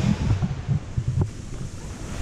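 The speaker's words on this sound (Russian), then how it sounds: "Волны просто в море охренительные." Sea waves off Turkey surging and washing with a low rumble, wind buffeting the microphone throughout, no voices.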